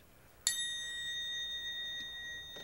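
A single metal triangle is struck once, giving a bright ringing ding with a long, steady sustain that fades slowly, heard alone in a quiet room.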